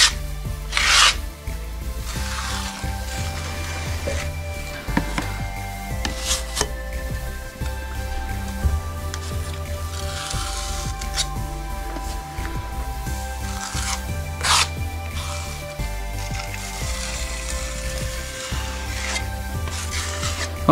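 Filler spread over cables chased into a brick wall is rubbed and scraped flat with a tool, a steady close rasping scrape that continues with no talking, over what sounds like background music.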